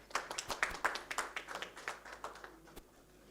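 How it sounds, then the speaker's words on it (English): Clapping for a guest at a sustainability summit felicitation, a modest group of hands clapping in uneven bursts, fairly quiet and tapering off. "A huge round of applause for Palak Khanna."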